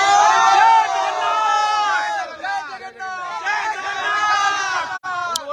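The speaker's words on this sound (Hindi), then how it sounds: "हरि बोल बोल रहे हैं" A large crowd of devotees chants Hari bol together at the Puri Rath Yatra chariot festival, many voices blending into a loud, sustained, sing-song roar with little pause.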